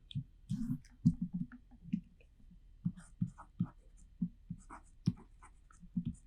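Marker taps and squeaks on a board as corner points are written out during a class 12 maths lesson, coming in short, uneven strokes and clicks with soft murmuring in between.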